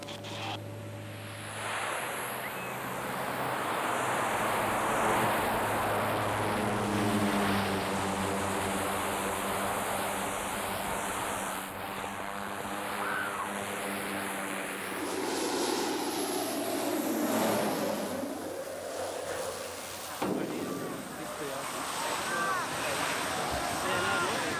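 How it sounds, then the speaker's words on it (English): Support propeller planes come in to land on a temporary airstrip carved from a rice paddy, a rumbling engine drone with a whining tone that swells and fades over the field, followed by quieter roaring passes, with a voice talking over it. "carve a temporary airstrip out of the rice paddy so the support planes can land"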